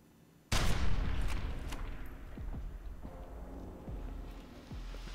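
A single loud gunshot cracks abruptly in the video game F.E.A.R. 2: Project Origin, followed by a long decaying rumble and faint scattered clatter afterward, with no talk.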